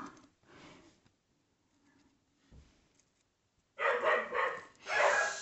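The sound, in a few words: dogs barking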